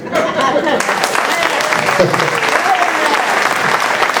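Audience applauding at the end of a one-man comedy show, loud sustained clapping with cheering voices mixed in throughout.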